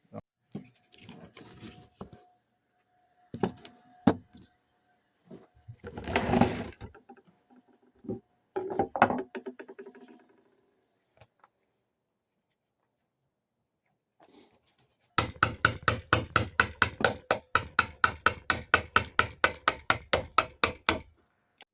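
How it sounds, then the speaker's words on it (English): A chisel clears scored waste from a wooden cutting board, with scattered close knocks and scrapes, then a long, rapid series of regular sharp taps in the second half, alone without talk. "now I'm going to come in with a chisel and clear this bit out"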